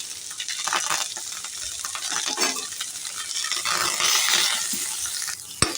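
Chopped onions, green chillies and curry leaves frying in a tempering, with a loud close crackling sizzle and busy stirring scrapes, ending in a sharp clink of a utensil against the pan.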